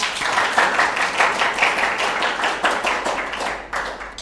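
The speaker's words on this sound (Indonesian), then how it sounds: "Beri tepuk tangan yang meriah." Studio audience applause welcoming a guest nutritionist onto an Indonesian talk show, a lively burst of many hands clapping close and loud throughout, fading slightly near the end.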